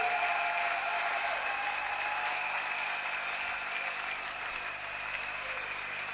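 Congregation at a church service applauding and acclaiming, sustained crowded clapping at a steady moderate level, easing slightly toward the end.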